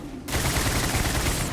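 Rapid sustained automatic gunfire from a weapon in Starfield erupts after a brief quiet lead-in and continues as a dense, loud roar.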